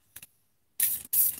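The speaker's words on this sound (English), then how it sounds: "So I'm spraying it with a little bit of water, has a little conditioner." A spray bottle of water mixed with conditioner mists a doll's hair in two close, hissing bursts, preceded by a faint click of the trigger.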